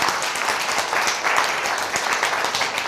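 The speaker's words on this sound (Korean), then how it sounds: "이 박수 한번 나와야 되는데." Audience breaks into sustained, dense applause at a talk on laughter and healing, many hands clapping loudly and evenly throughout.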